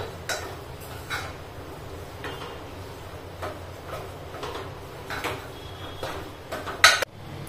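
Jaggery being stirred into cooked wheat in a metal pot for traditional kheer: intermittent close scrapes and knocks of a spoon against the pot in an uneven rhythm, ending on a sharper clank.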